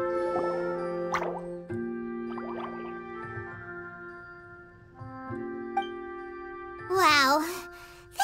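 Water droplet dripping in the video game Genshin Impact, soft plops and tinkling drips over sustained musical tones, with a brief burst of a character's voice near the end.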